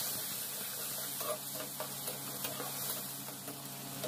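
Spice paste frying in hot oil with dried red chilies and whole cumin seeds: a steady broadband sizzle and hiss with small crackles, fairly even and close, with no talking.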